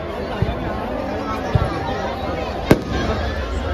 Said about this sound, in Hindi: एंड इस साइड पे अभी फायर वर्क चल रहे हैं ऊपर